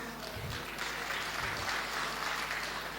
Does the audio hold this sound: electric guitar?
no